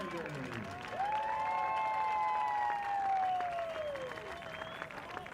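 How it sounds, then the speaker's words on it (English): Crowd applause and cheering ring out for the Arizona Sidewinders at a Western Ultimate League ultimate frisbee game, steady and fairly loud throughout, mixed with a sustained voice or horn-like tone over the cheering. "Let's give a big round of applause for your Arizona Sidewinders"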